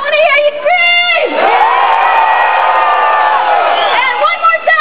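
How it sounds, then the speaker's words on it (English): Loud, sustained screaming and cheering from a packed crowd at a Diablo 3 launch event, a dense wall of voices that swells and dips briefly before roaring again. "I want to hear you scream!"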